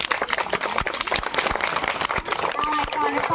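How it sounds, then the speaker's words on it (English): Clapping from an audience at a school Independence Day celebration, a continuous patter of many hands with sharp individual claps standing out, slightly distant. "A very big clap."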